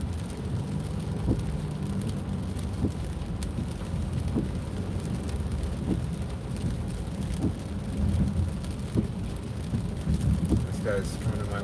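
Rain falls steadily around a car driving through traffic, heard from inside as a continuous close hiss with a low road rumble and occasional soft taps, with no break throughout.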